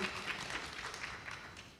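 An audience at a festival event claps together, making a faint, distant, dense patter of applause that holds steady throughout the short moment.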